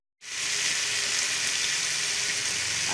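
Garlic frying in oil after a splash of water, cooked for biryani, a bright steady sizzle that starts suddenly and continues evenly, close and fairly quiet, with no talking.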